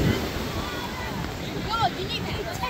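Waves wash ashore at a busy Rehoboth Beach in Delaware on a hot day, a steady surf roar mixed with wind rumbling against the microphone, as people talk nearby.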